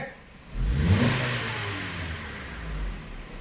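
A car engine under load testing revs hard at wide open throttle, surging up loudly and then holding a sustained high roar for a few seconds without talk.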